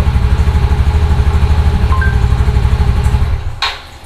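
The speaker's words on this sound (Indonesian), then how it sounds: "sini rada berisik suara motor" A motorcycle engine idles loud and close with a steady low throb, then cuts off near the end with a brief clatter.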